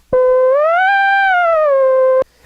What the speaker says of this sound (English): It's a sawtooth waveform that you can play by moving your finger along the ribbon